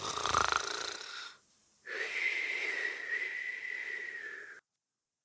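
Snoring sound effect: a drawn-out, whistling wheeze of a snore, one breath cut off, then a longer high, thin nasal tone that stops abruptly into silence.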